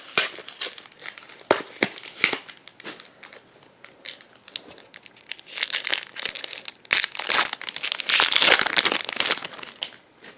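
A Pokémon TCG Sun & Moon Crimson Invasion booster pack wrapper is torn open and handled, making a run of sharp, irregular crinkles and crackles of foil plastic, close and loud, growing busier toward the end, with no speech.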